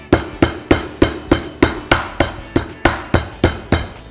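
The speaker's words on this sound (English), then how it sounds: "you pound and sort of push as you go to flatten" A meat mallet pounds chicken cutlets flat in a steady series of about fourteen sharp, evenly spaced thuds, loud and close, each blow decaying quickly, with no talking.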